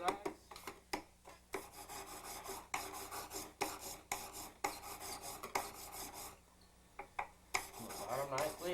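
A gold ring is rubbed with sandpaper close up: a steady run of short, dry rasping strokes in uneven bursts, with brief pauses between passes and no speech.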